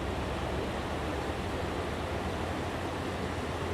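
Cold river water rushes past in a steady, dense roar that holds at an even level throughout, close by and with no voices.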